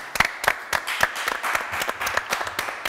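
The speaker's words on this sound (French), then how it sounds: "On peut même vous applaudir." Audience applause on a television talk show, a small group clapping in loose, uneven bursts, with individual claps close and distinct throughout the short stretch.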